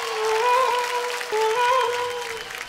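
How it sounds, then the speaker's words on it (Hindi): Studio audience applause on an Indian dance competition show rings out after an emotional performance, steady and full under a sustained musical tone, with no talk. "एक बार जोरदार तालियां होनी चाहिए।"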